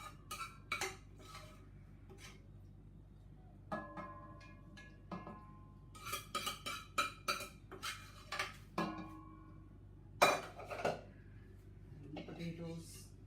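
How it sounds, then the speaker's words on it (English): A pot of layered rice, meat and potatoes for qorma biryani gets handled with utensils: scattered clinks, scrapes and taps of a spoon against the pot, spaced irregularly in a quiet kitchen. "Just layering the rice with the meat and the potatoes."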